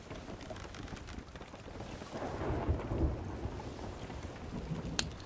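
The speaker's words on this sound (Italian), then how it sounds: "Oh no, è un tuono sicuro." Thunder from a storm heard at sea aboard a boat sailing into a headwind: a loud, broad rumble that swells and rolls for several seconds amid steady rain-like noise, with a sharp crack near the end.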